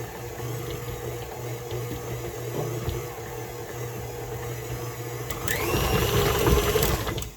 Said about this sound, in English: if you're adding your dry ingredients to your wet ingredients, I find it a little bit easier if you pulse it